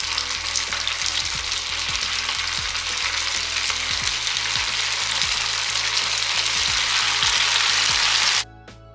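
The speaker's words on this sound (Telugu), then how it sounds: "ఈ క్యాలీఫ్లవర్ పీసెస్ని ఆయిల్లో వేసుకుని ఫ్రై చేసుకోవాలి." Cauliflower pieces coated for gobi Manchurian fry in hot oil, making a loud, dense, continuous crackling sizzle with faint rhythmic ticks underneath, cutting off abruptly near the end.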